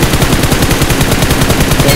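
Rapid automatic gunfire rattles on in a mobile battle royale game, a dense, loud, evenly spaced burst of shots continuing for two seconds without speech.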